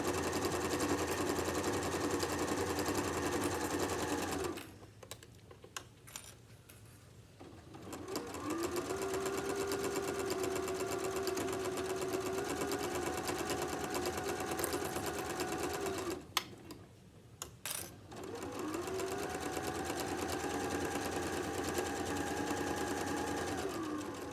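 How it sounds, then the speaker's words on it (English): Sewing machine stitching a tote bag, close steady motor whirring in three long runs separated by short pauses with faint handling sounds while the fabric is repositioned. "When I get to the end here, I'm going to make sure my needle is down in the fabric, lift it up, and sew this end shut."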